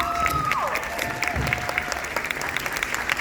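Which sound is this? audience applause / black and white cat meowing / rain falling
audience applause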